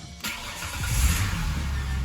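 A Ford Mustang engine with a modified cam cranks and catches, then settles into a steady low rumble, close by and fairly loud.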